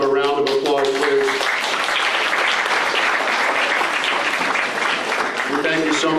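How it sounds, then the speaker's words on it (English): Audience applause at a synagogue tribute dinner for guests seated at the lead table, a dense steady clapping wash lasting several seconds, with a voice and some tonal sound briefly audible at the start and end. "Would you give them a round of applause, please?"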